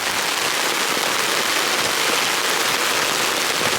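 Heavy rain pours down during a chaotic camping storm, a dense, loud, steady hiss of drops pattering on surfaces close by.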